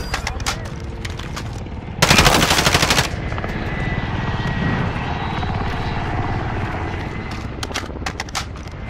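An attack helicopter's steady rotor drone in Call of Duty: Modern Warfare, broken by a loud, dense burst of machine gun fire and scattered sharp shots around it.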